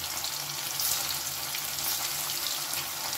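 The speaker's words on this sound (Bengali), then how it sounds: "যে আলুটা সেদ্ধ করে রেখেছিলাম সেই আলুটা কেটে নিয়েছি, নুন হলুদ মাখিয়ে এই তেলের মধ্যে আমি লাল করে ভেজে তুলে নেব" Boiled potato pieces coated in salt and turmeric fry in hot oil, giving a steady, even sizzle that runs without a break throughout, fairly close and moderately loud, with no talking over it.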